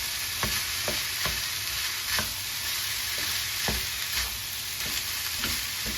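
Pork fried rice hisses steadily in oil in a hot pan, a loud, dense sizzle broken by repeated sharp taps and scrapes of a spatula as it is stirred, close up with no talking.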